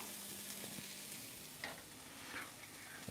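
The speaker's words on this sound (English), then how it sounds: "Get that sizzle going." Food sizzles as it fries in a hot pan in a home kitchen, a faint, steady crackle with a few brief stirring clatters and no voices.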